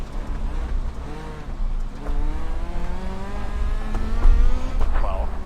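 Dirt midget race car engines in a Chili Bowl racing video game, a steady droning whine with rising and falling pitch sweeps as the cars accelerate around the track, loud and continuous throughout.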